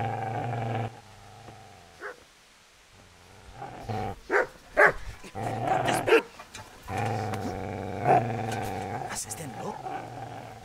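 In the medieval game Kingdom Come Deliverance, the butcher's dog snarls, growls and barks in short aggressive bursts while attacking. Someone talks intermittently over the commotion.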